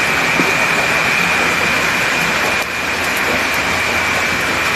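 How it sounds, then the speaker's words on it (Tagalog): Heavy rain pours down in a loud, dense, unbroken hiss close by, steady throughout with a brief dip partway through. "Ulan na naman."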